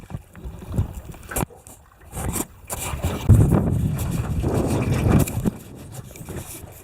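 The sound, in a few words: wind and water around a sailing dinghy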